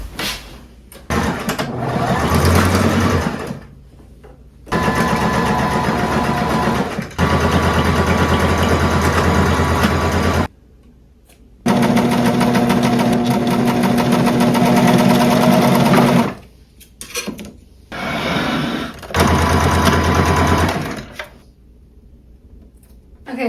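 A sewing machine runs a straight stitch on thrifted clothing, several close, steady whirring bursts of a few seconds each separated by short pauses, with brief speech in the gaps.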